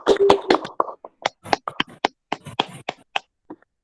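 Children in a classroom clap their hands in a short rhythmic pattern of sharp, separate claps and bursts, fairly close, with a few quiet voices mixed in.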